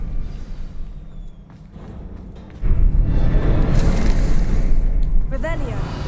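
A Confringo fire spell bursts in Hogwarts Legacy, a sudden loud blast that swells into a sustained roaring rumble with crackling debris, followed by a brief rising magical shimmer near the end.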